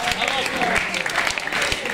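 Audience applause for a basketball team's center at a club season presentation, dense clapping over crowd noise and chatter for a brief moment.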